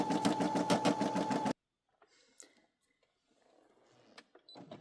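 A Brother SE600 embroidery machine stitching felt shapes, its needle hammering in a fast, steady rhythm for about a second and a half before stopping abruptly. Faint handling clicks and rustles follow in the quiet.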